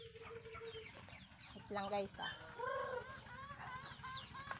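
Native chickens cluck and murmur up close while being fed in the morning, as a person speaks briefly over the birds.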